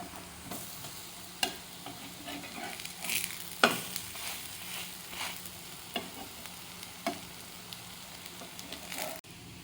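Vada pieces sizzle steadily in hot oil while being flipped, with scattered soft scrapes and taps of a utensil against the pan over a continuous frying hiss.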